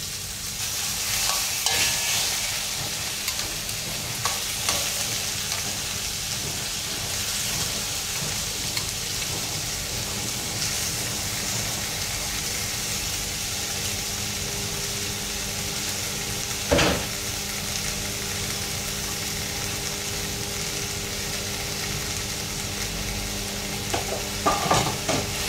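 Pieces of lapu-lapu (grouper) fish fry in a little oil, giving a loud, steady crackling sizzle with occasional sharp clinks and scrapes from a utensil against the pan.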